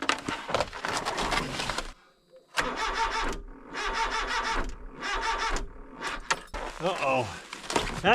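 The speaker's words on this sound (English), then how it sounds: "Car doesn't want to start and it sounds like it's the battery." Car engine cranking repeatedly without catching at 0 degrees Fahrenheit on a weak battery, heard as long sluggish churning bursts separated by short pauses, close and loud, with voices talking over parts of it.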